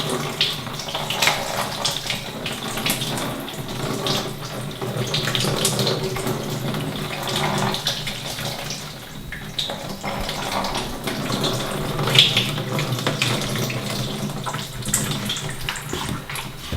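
Crystalline glaze poured over a ceramic piece: a continuous, even splashing rush of liquid that runs steadily throughout, close and moderately loud, with no voices.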